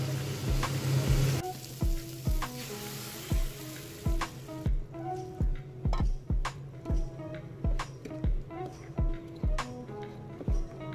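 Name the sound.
flat beans frying in a pan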